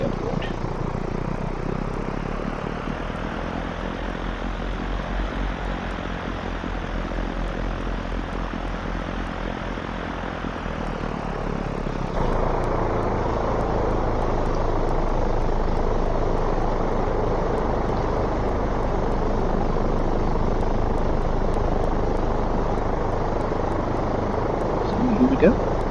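Simulated aircraft engine at Roskilde Airport, Denmark, in the X-Plane flight simulator game, a loud steady drone that shifts to a fuller, rougher roar about halfway through and then holds constant.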